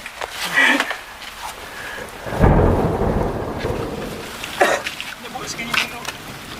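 Rain and rolling thunder at a harbor fishing spot near a box cave, a deep rumble swelling midway, with people talking over the steady rain.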